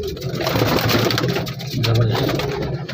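Pigeons cooing in a bird market, with low throaty coos repeating close by amid general crowd noise, while someone speaks briefly over them.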